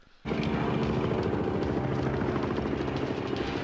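A helicopter roars in abruptly after a brief quiet moment, then holds a loud, steady thrumming engine and rotor drone with no voices.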